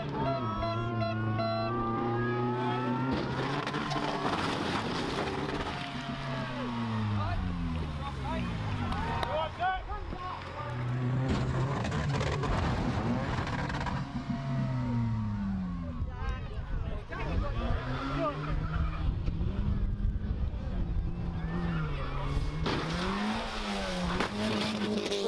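A Toyota Celica runs at a UK car jump event, its engine revving and rising and falling in pitch amid crowd noise and other cars, with people talking and exclaiming throughout.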